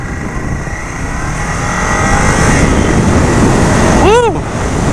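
A 2018 Ducati Scrambler Cafe Racer motorcycle accelerates hard, its engine roar building loud and close under wind rush, with a brief rising whine near the end.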